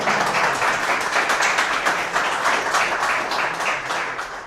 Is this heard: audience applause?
yes